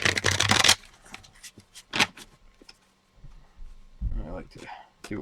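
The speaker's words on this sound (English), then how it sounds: "2 more shuffles from the right side," Shuffling a deck of cards for an APBA soccer board game, in several quick riffling bursts, near and crisp, with pauses between them and someone talking around the shuffles.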